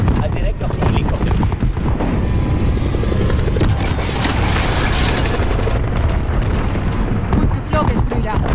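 A helicopter's rotor thumps steadily through a loud, dense Call of Duty: Modern Warfare campaign soundscape, with booming rumble and voices talking over it throughout.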